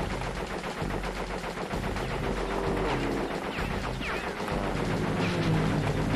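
Rapid gunfire from shooting in Crash Bandicoot 3: Warped, a dense continuous rattle of shots layered over busy game music and effects, loud and steady throughout.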